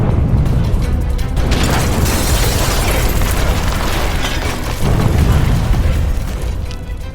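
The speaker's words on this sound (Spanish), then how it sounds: "Entonces ocurrió la explosión." Explosive charges detonating in a hostage-rescue operation, a loud sustained roar of blast and rumbling debris that stays dense for several seconds, with no voices.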